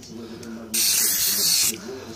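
One continuous hiss of a spray bottle misting cleaner onto dirty snooker balls, close and lasting about a second, between low background sounds.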